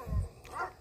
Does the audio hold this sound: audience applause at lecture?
no